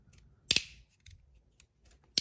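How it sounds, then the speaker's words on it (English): Crisp clicks from a 3D printed haptic EDC fidget slider, two sharp loud snaps about a second and a half apart with faint softer ticks between, close up and quiet otherwise. "But this sound is amazing. Such a good click."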